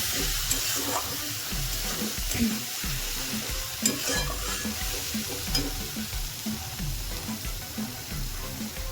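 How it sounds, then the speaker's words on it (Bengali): Spice paste (masala) with a little water sizzling in a pan while a spoon scrapes and stirs it in repeated knocking strokes, steady close frying throughout, no talking. "এবার মশলাটাকে ভালো করে কষে নেব।"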